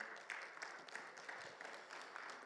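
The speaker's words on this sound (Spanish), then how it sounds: "Denle un fuerte aplauso al Señor" A church seminar congregation applauds, a faint, dense patter of many hands clapping steadily from a distance with a few sharper claps standing out.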